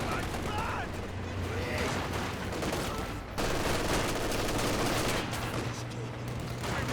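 Company of Heroes 2 battle gunfire, an M3 firing on Grenadiers in a 4v4 match: dense rapid bursts and rattling volleys continue throughout, with a sharp jump in loudness midway and crowded layered combat noise.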